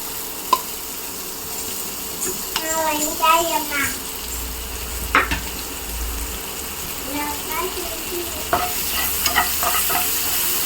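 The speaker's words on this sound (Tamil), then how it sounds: "இப்போ இந்த எண்ணெயில் நம்ம இந்த வெங்காயத்தை போட்டுக்கலாம்." Onions frying in oil, with a continuous sizzle and scraping stirs as they are turned in the pan, while people talk over the cooking, including what sounds like a voice.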